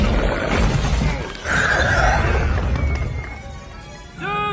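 Glass shatters with a sharp, bright burst that rings out over a dense, busy background before fading, followed by a short run of tinkling, chiming tones near the end.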